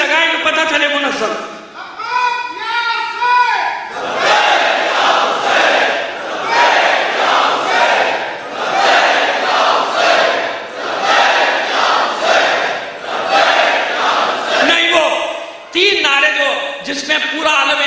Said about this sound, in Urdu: نعرے بیٹا، میں نعرے کو منع نہیں کر رہا، مگر ایسے لگائیں کہ پتہ چلے منظم